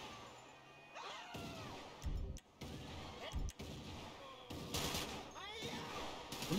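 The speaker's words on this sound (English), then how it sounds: "getting shot again right now" Gunfire in GTA 5, loud bursts of shots and crashing impacts landing in irregular clusters while voices talk and shout over the action.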